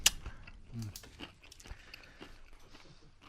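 Close, crisp crunches of teeth biting into breaded fried chicken, several quick bites and chews in a row, fairly quiet with no talk.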